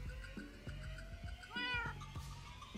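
A cat in Minecraft meows once, a rising drawn-out mew over a steady game soundtrack with soft rhythmic thumps in the background.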